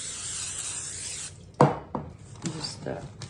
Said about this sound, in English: And I'm gonna just spray that and smush it around.